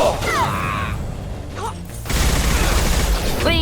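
A rifle fires in a Mass Effect 2 firefight: a brief loud blast opens, sci-fi whines and chirps drift over steady combat noise, then a heavier burst of shots and rumble swells near the end.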